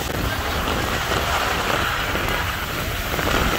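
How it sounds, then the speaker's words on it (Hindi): Heavy monsoon rain in Karachi, Pakistan, pours down in a steady, dense roar with no letup, close and loud throughout, and no voices. "ये देखें आप कितनी तेज रफ्तार बारिश हो रही है"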